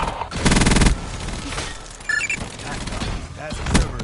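Rapid video game gunfire rattles in a dense burst as a Cerberus unit comes under attack, followed by scattered shots and electronic effects over a busy battle background.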